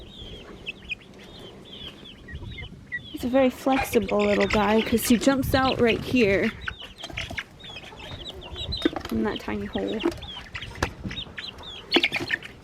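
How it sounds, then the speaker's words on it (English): A rooster outdoors near a cage, usually kept with ducks, clucks and calls in short bursts close by while someone talks over it, with more birdy clucks scattered through. "And Mr. Rooster is out here hanging out."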